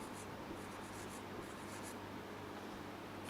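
Faint, steady scratching of writing on a board during a basic English grammar lesson, heard alone with no talking for about three seconds.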